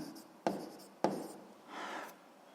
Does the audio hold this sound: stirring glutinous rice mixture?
no